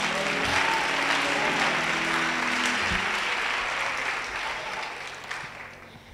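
Church congregation clapping and praising God during a sermon, a dense burst of applause and cheering filling the room, then gradually thinning and fading over several seconds.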